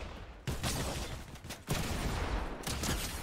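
Bursts of rapid gunfire from an online shooter game crackle loudly and densely in three long volleys separated by brief gaps, with no voices over them.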